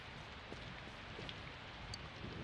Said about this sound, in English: Oh wow, it's raining.